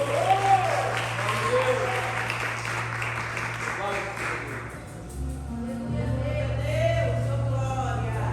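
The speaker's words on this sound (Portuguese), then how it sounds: "Você pode aplaudir o Senhor?" A church congregation applauding the Lord during a sermon, a broad wash of clapping for several seconds that fades as a low hum continues, with a preacher's voice speaking over and after it.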